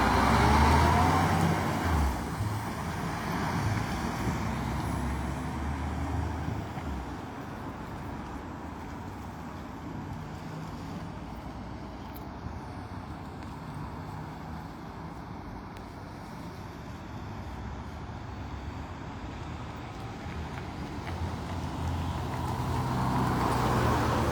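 City intersection in Dnipro after a crash between a Renault and a MAN truck, with a continuous wash of passing traffic, louder vehicles swelling at the start and end.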